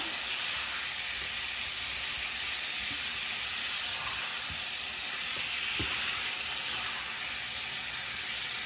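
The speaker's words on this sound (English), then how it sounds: "Scrape up any tasty bits stuck to the bottom." Steak browns in a hot pan just after cooking wine goes in, and a utensil scrapes the stuck bits from the bottom. A loud, constant sizzle runs throughout, with faint scraping scuffs beneath it.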